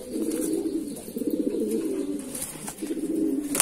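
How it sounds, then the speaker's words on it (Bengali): A female Madrasi pigeon and others nearby coo steadily in a deep, pulsing drone that fills the whole stretch, close and clear with a few soft clicks and rustles. "এটা হচ্ছে মাদি পায়রা"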